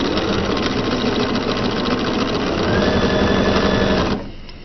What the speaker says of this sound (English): so that I can get them out of the sewing machine